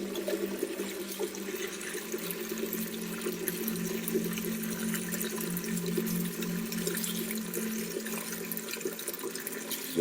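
Water pours steadily into dog water bowls set out front, a continuous running, trickling wash that holds fairly constant for the whole stretch with no talk over it.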